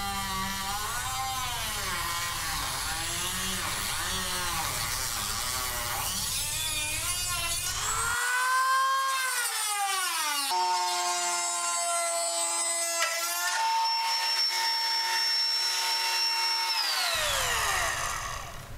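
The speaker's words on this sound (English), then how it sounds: "use my cutoff wheel again with my respirator on to cut my holes" A cutoff wheel grinds holes into hot rod door metal, its whine rising and falling as it bites into the steel, then settling into long sustained high-pitched cuts that run close and loud with no talking.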